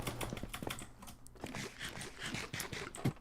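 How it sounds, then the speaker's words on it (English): Rapid keystrokes hammer a computer keyboard during gameplay, a dense, uneven clatter of close, quick clicks with no talking over it. "You can just hear me spamming the keyboard."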